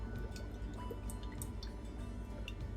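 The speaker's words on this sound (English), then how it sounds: "I'm going to put a couple tablespoons of just regular canola oil" Canola oil poured from a spoon into a shallow frying pan makes a soft, close trickle with a few faint drips and ticks over low kitchen background noise, with no talking.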